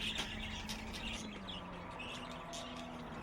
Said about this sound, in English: The budgie is a tiny parrot from the deserts and scrublands of Australia.